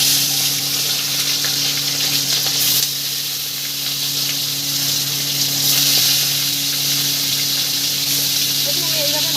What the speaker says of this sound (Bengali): এবার আমি মাছটা ভালো করে ভেজে নেব।